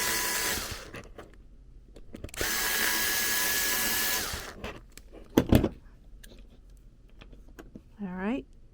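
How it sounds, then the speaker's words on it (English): Small drill bit boring holes into a Blythe doll head, a couple of short high whirring bursts with handling clatter and pauses between, close and fairly quiet. "I definitely don't want to have that drill bit go all the way through to her head"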